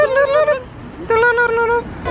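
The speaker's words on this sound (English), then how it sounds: "The horns here sound a bit like a turkey gobbling." Vehicle horns on a Nepal road blare in wobbly, warbling bursts, two long honks separated by a brief pause and a third starting at the end, loud and close.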